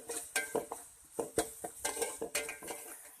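Tomatoes and onions sautéed with salt in a pan for tiffin sambar, with repeated clinks and scrapes of a spoon against the pan in an uneven rhythm over a faint background sizzle, close by.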